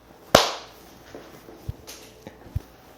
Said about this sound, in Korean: 오늘 박수가 잘 안 들려서 다시 한번 해보겠습니다.